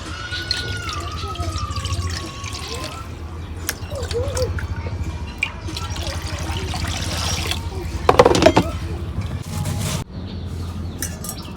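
Water trickles and splashes briefly, loudest for a moment near the end, over clattery kitchen background noise.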